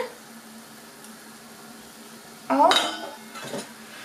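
Small diced potatoes tip into a pot of sorrel soup with pork ribs simmering on a home stove, giving a brief clattering splash and clink of pieces hitting liquid and metal, followed by a smaller second rattle against a quiet kitchen background.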